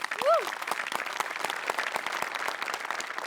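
An audience applauds for the hair, makeup and costume department at a Marathi comedy show, steady dense clapping throughout, close and fairly loud, with a brief voice or whistle near the start.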